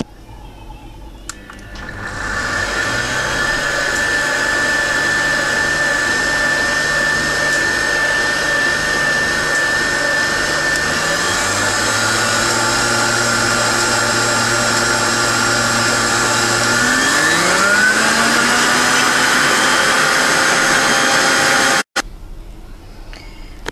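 Electric hand mixer whirring steadily as it beats two eggs with milk and sunflower oil for a coffee-square batter, a loud sustained motor whine whose pitch rises twice before it abruptly switches off.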